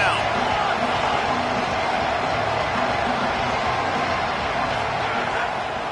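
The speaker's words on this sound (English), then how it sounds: "Decibels rising as the crowd gets behind this defense on 3rd down." Loud, steady roar of a stadium crowd cheering for the defense on third down at a football game, a dense continuous wash of voices that holds at full level throughout.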